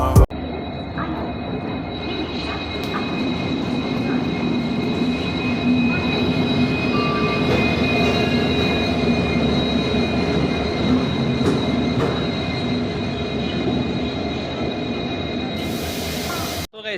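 Shatabdi Express on the Mysuru to Chennai run, a fast train clocked near 110 km/h, rumbling steadily with a constant wheel-on-rail roar and faint squealing for the whole stretch, loud and close from on board.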